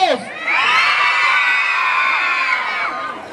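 Crowd of children shouting and cheering together in a town plaza during a Children's Day celebration, one loud sustained collective yell that swells quickly and holds for a few seconds before tapering.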